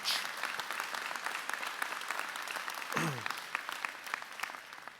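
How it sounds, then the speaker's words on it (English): A convocation audience at NSCC Cumberland Campus breaks into steady, dense applause, a sustained wash of many hands clapping at a moderate distance for the full stretch. "And that deserves a big round of applause."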